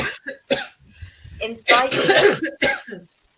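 Someone coughs and clears their throat several times in a row, harsh bursts close up with brief pauses between.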